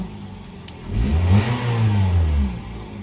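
Close car engine idling, then revving up in a rising roar that holds for about a second and a half before easing back down; a 1.5-litre engine with sunroof-equipped car.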